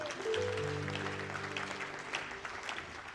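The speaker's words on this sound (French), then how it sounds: "Est-ce que tu peux acclamer Jésus très fort?" Church congregation cheering and applauding for Jesus at a Christian café gathering, a steady wash of clapping with sustained voices and a held tone running underneath for the full few seconds.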